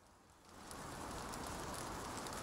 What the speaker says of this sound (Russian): О, дождик.